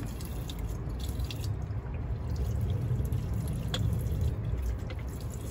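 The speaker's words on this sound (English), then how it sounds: "So, we got water, y'all, coming out the faucet" Water runs steadily from a faucet inside a van, a faint continuous trickle with small drip-like spatters and no voices.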